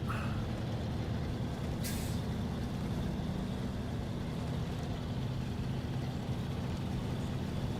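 A heavy truck in the SnowRunner video game churns its way out of thick mud, a continuous low engine rumble and grind that stays loud and steady, with a short hissing burst near the start.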